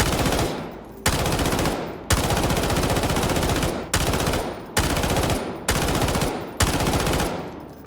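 An SG552 rifle fires in the shooter Delta Force in a series of sustained full-auto bursts, each a loud rapid rattle of shots lasting about a second, separated by brief pauses, with no talking.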